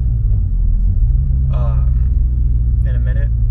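A deep, steady exhaust rumble from an idling Mk7 Volkswagen GTI with its muffler deleted, a low droning tone, while someone talks briefly over it.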